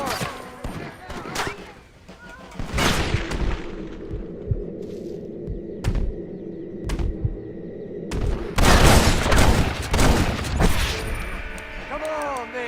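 Gunfight in Red Dead Redemption in West Elizabeth, loud rapid shots and volleys from several guns, with bursts and echoing cracks and voices heard between them.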